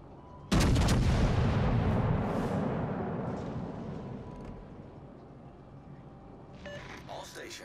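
Naval gunfire in a Seven Seas video game, one loud sudden cannon blast followed by a long rolling boom that slowly fades, with faint voices near the end.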